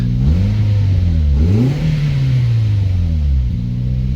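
Toyota Yaris engine revving up and down in a car under rebuild, loud and close, with several rising and falling pitch sweeps over a steady idle rumble and no talking.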